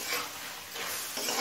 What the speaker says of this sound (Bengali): এখন হাই ফ্লেমে এই জলটা শুকিয়ে আসা পর্যন্ত রান্না করে নেব